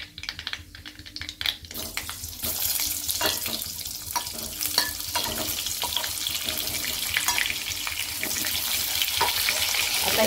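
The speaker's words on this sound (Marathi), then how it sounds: "आता वांगे टाकू त्याच्यामध्ये।" Brinjal pieces tipped into hot oil already crackling with mustard seeds, producing a steady, close hiss of frying in a pan that grows denser and louder after the first couple of seconds, with scattered clinks at the start.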